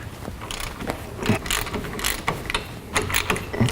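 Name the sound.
ratchet breaking loose a Camry brake caliper bolt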